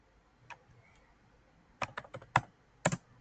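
Keystrokes on a computer keyboard while a hospital database table is being built, a single tap followed by a quick burst of several clicks and two final presses, close and crisp in a quiet room.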